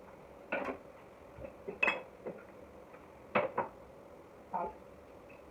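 Chicken is mixed with spices and cornflour in a bowl, a spoon clinking and scraping against the bowl in short, irregular bursts over a quiet background.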